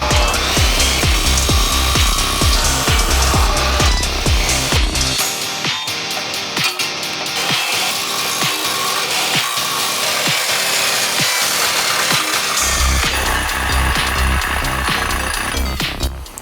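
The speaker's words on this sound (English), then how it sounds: "I'm going to cut down the axle and then put the proper keyway into the sprocket." A power tool cuts down a steel axle for a mini drift cart, sounding as loud, rhythmic, repeated cutting strokes that shift to a lighter, steadier grind midway before the heavier strokes return.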